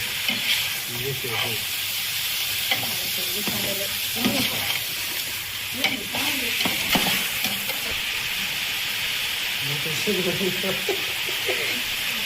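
Mutton gravy for a village-style Rayalseema dish frying and sizzling in a pan with steady hiss, broken by intermittent scraping stirs at close range; a voice speaks faintly at times.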